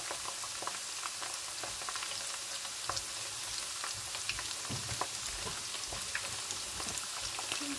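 Bananas frying in hot oil for a Malagasy fried banana dish, a steady close crackling sizzle with scattered pops, continuous and even, no voices.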